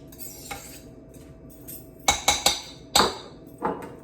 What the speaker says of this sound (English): So I'm just going to give that a quick stir.